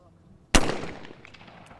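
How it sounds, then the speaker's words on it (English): A single loud shotgun blast from trap shooting at a men's final of an international clay target world cup in Egypt, a sharp crack with a short echoing tail over faint crowd ambience. "shooting once again, and he shoots it down"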